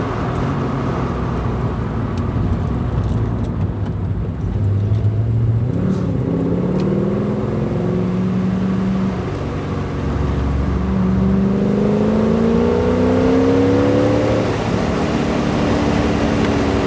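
An LS V8-swapped Porsche 944 drives along with a steady, loud engine drone, its pitch rising and falling through gear changes and throttle, with rough rumble and road noise throughout.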